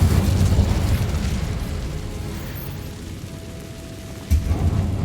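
Incendio fire spell in Hogwarts Legacy: a loud whooshing burst of flame that fades into a crackling fiery hiss, then a sharp boom near the end.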